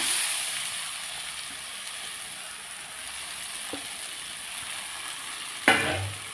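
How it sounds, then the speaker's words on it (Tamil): Mango pieces stir-fry in a pan with turmeric powder, giving a steady close-up sizzle of frying with soft stirring scrapes and a brief louder clatter near the end. "மாங்காயை நல்லா ஒரு பரட்டி பரட்டி விட்டுருவோம்"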